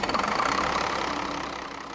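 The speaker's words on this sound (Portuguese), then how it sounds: "Olha o barulho que a gente estava falando do caminhão." A truck engine idles and rumbles loudly and close, with a steady knocking pulse that fades slightly toward the end, with no talking over it.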